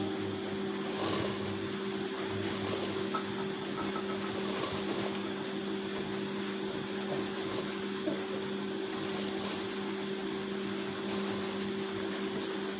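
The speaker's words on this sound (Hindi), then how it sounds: "बहुत हल्के हल्के मशीन चलानी है।" Electric sewing machine running slowly and steadily while stitching piping onto a blouse seam, a continuous soft motor hum with faint mechanical whir and no talk.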